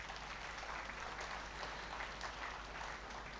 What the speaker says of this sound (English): Maybe a round of applause is not out of place.